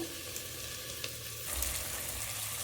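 Chopped raw green jackfruit, frozen beforehand, sautés in a pan for a vegetable biryani, giving a soft, steady sizzle with a faint scrape of stirring and a slight swell partway through.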